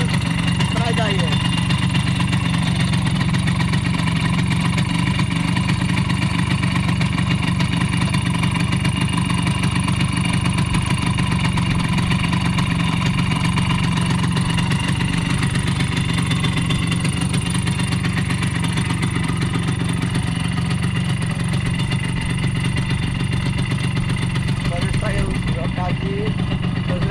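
A Simson scooter engine drones steadily during a ride, a loud, continuous low buzzing hum close to the rider with little variation throughout, while someone speaks over it.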